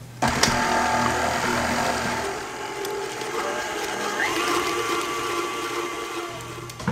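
A stand mixer whirs steadily, mixing sourdough cinnamon roll dough with a stick of butter and honey, a continuous motor drone with rattly texture that runs nearly the whole time with only slight dips.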